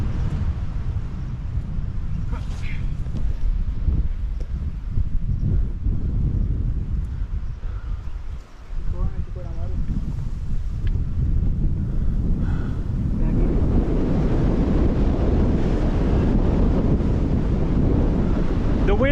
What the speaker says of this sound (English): Oh wow, that is quite a wind, guys.